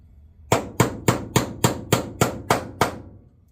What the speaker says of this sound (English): I'm out here on the edge of the bench where I've got a nice soft block of wood to hammer on.